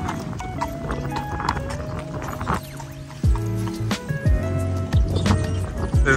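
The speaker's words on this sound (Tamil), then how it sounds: "குதிரை வண்டி இருக்குமே அந்த மாதிரி," A horse-drawn carriage in Central Park, New York, moves past with steady hoof clip-clops and rolling wheels, close and fairly loud amid busy city park background noise.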